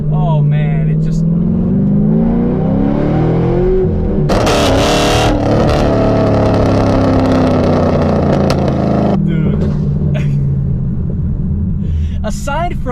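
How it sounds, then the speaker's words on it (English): A Camaro SS with an LS3 V8 and straight pipe exhaust revs loudly and up close, its deep rumble climbing and falling in pitch through several pulls, with a sharp burst near the middle and voices heard over it. "the wonderful sound that is produced by the LS3 engine, and of course my straight pipe setup"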